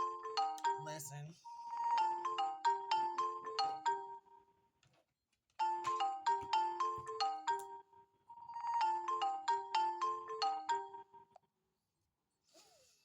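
A melodic phone ringtone plays three bursts of quick chiming tones, each lasting a few seconds with brief pauses between, clear and fairly loud, with a short voice fragment at the start.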